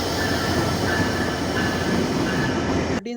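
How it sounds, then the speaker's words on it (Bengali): Loud, continuous rumble and rattle of an express train entering Ishwardi Junction station in Bangladesh close by, with wheel clatter and a faint squeal, cutting off abruptly at the end. "চিত্র এক্সপ্রেস ট্রেন প্রবেশ করছে ঈশ্বরদী জংশন"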